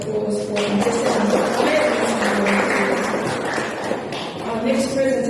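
Audience applause for contestants at the Miss Samoa 2023 pageant, a dense, steady patter of many hands clapping throughout, with a few voices and scattered whoops rising over it in a large hall.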